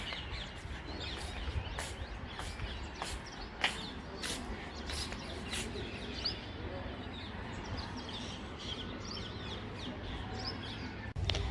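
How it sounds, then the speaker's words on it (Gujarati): Morning birdsong outdoors, with repeated high chirps and calls over a steady background hum of wind and distant activity, moderately near and fairly soft. "સરસ મજા પક્ષીઓનો અવાજ આવી રહ્યો છે."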